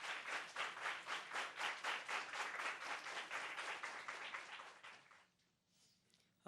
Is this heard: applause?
yes